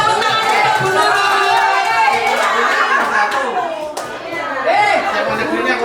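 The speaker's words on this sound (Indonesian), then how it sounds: "beri tepuk tangan untuk Bu Nurul" An audience at a halal bihalal gathering of high-school Indonesian-language teachers in a hotel claps for a colleague, a sustained patter of applause mixed with lively chatter, laughter and talking throughout.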